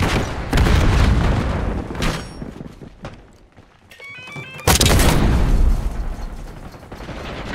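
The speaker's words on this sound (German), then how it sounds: "Blendgranate geht raus." A flashbang grenade goes off in Call of Duty Black Ops 6 multiplayer: a loud broadband burst with a bright high ring, thick with gunfire and other game noise. No voices are heard.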